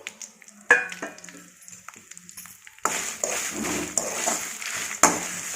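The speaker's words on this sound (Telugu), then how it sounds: "ఎండు మిరపకాయలు ఫ్రై చేసుకోవాలి, వేయించుకోవాలి." Dried red chillies fry in oil in a kadai for curry leaf powder. A few scattered clicks and clatters in near-quiet give way midway to a steady close sizzle, broken by occasional sharp knocks.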